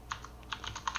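Quick, light keystrokes on a computer keyboard, a handful of soft clicks in uneven rhythm, close and quiet with no talking.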